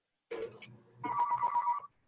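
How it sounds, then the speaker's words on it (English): A phone rings and beeps in the background of an online webinar, a brief burst of tones followed by a steady, sustained ringing tone lasting under a second, fairly clear with no talk over it. "I'm hearing a lot of beeping."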